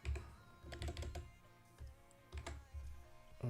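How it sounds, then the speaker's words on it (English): Computer keyboard keys clatter in irregular bursts of close, crisp clicks, pausing briefly between flurries, with no voices. "My keyboard needs to wake up."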